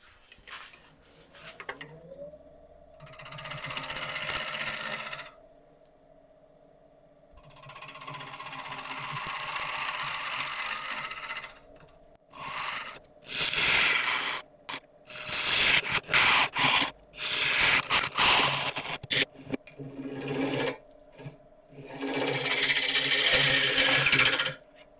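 A lathe tool hollows a piece of 50,000-year-old kauri wood, loud scraping bursts over a spinning motor hum, stopping and starting with gaps of near-silence between cuts.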